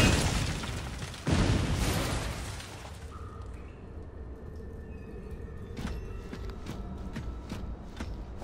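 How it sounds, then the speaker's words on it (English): A missile strikes mining equipment in the game Shadow Complex, setting off a loud, close explosion with a rumbling roar that fades into a lower din broken by a few faint knocks. "Instead of pulling the lever, we're going to shoot it with a missile"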